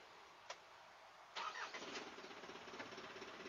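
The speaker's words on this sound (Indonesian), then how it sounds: "sekarang kita coba starter mobilnya" The starter of an Isuzu Elf NMR 71 HD truck with a diesel engine, a faint click, then a short cranking whir that catches into a low, pulsing idle, heard quietly with no talking.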